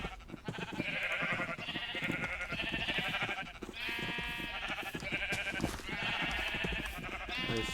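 Sheep in the Minecraft video game bleat repeatedly in a steady series of overlapping calls, clear and close, over a soft background with no talking.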